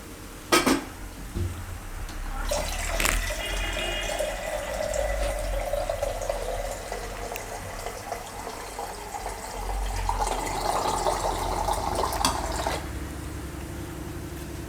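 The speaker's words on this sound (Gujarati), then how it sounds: "તો 3 વાટકા પાણી નાખ્યું" Water poured from a bowl into a cooking pot for Gujarati rasiya muthiya, a rushing splash and trickle with clattering of metal vessels and a ladle, close and fairly loud, no talking.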